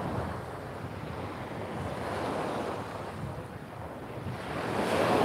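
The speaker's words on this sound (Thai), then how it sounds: "ตอนนี้ลมแรงอย่างนี้" Strong wind roars across the shore of Koh Phangan, Thailand, with surf washing in beneath it, a steady broadband rush that grows louder toward the end.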